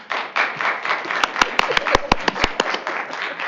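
An audience claps at a school board business meeting, a burst of sharp, uneven hand claps under a murmur of voices in the room, lasting a few seconds.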